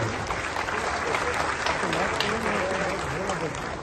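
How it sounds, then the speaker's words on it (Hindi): A conference audience in a hall applauds continuously, dense clapping filling the room while a voice speaks or calls out over it. "आपकी तालियों से यह हॉल गूंजना चाहिए।"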